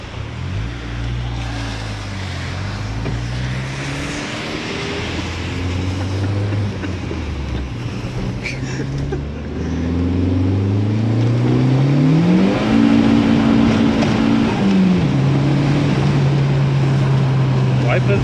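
A car on wet roads runs a launch control test and accelerates hard through the gears, its engine note climbing, dropping at each shift and climbing again, loud and close from inside the cabin, with steady road and wind roar beneath.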